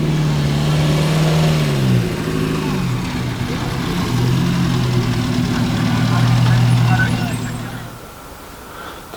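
Several Seven sports cars gathered for demonstration runs at the Prescott hill climb idle and rev nearby, their engine notes rising and falling in pitch before fading, with voices talking beneath the noise.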